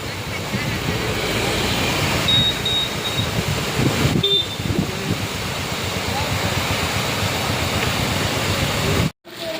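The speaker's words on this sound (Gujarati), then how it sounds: "અને એટલો ઘેલો છલકી રહ્યો છે." Ghelo river overflowing its ghat in front of a temple during rain, a steady, loud, close broadband rush of water that runs unbroken for nearly the whole stretch and drops out abruptly just before the end.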